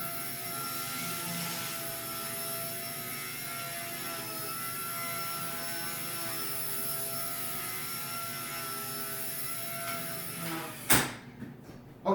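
An XK K110 Blast RC helicopter lifts off and flies indoors, a steady high-pitched rotor and motor whine holding constant for about eleven seconds, then a sudden clatter as it strikes a table and cuts out.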